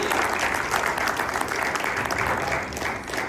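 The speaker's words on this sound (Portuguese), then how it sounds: "Aplaude o Senhor, igreja. Aplaude o Senhor." A congregation claps together in dense, sustained applause, steady and loud throughout with no pause.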